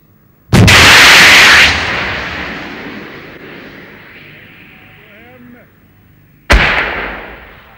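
A Bofors anti-tank missile launches with a sudden loud blast and a roaring rush that fades over several seconds, then a sharp distant impact on a tank target with reactive armour about 1,270 meters away.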